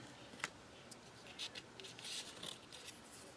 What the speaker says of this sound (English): Let me cut one of these, and actually I'll cut the excess here on the end.